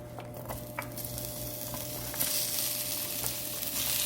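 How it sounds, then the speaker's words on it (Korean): Onions and mushrooms stir-fry in olive oil, a close, steady sizzle with faint spoon scrapes that grows brighter and more intense toward the end. "올리브 오일을 이렇게 둘러주시고 어, 아까 준비해둔 양파와 버섯을 넣고 볶아줄 거예요"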